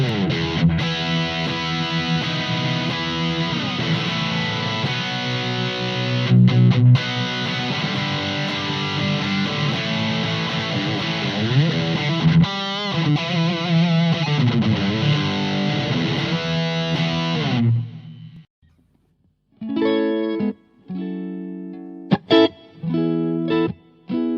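Electric guitar tone samples played through a Blackstar amplifier: sustained, heavily distorted chords and riffs with effects ring out loudly for about eighteen seconds, then a sparser run of short, choppy stabs separated by silences.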